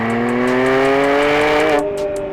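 A Porsche 911 drives past nearby, its engine a loud steady drone that rises slightly in pitch and then recedes as it goes by.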